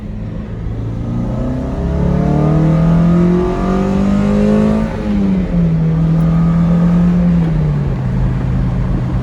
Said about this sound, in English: I'll do a second gear pull here